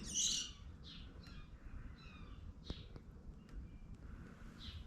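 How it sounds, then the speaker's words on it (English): A bird squawks and chirps on a farm in springtime, several sharp calls scattered over a quiet background with faint wind, the loudest burst at the start. "It's a bird."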